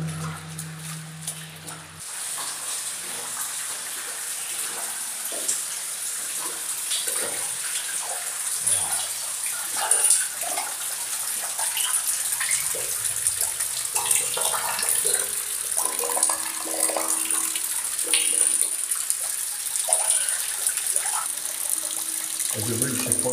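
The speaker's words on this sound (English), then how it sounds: "Is there a waterfall pouring in here?" Water pouring into the long, dark Manshead Tunnel at Turvin Clough, Cragg Vale, like a waterfall: a steady broadband rush that echoes and holds constant throughout, with scattered splashes and drips over it.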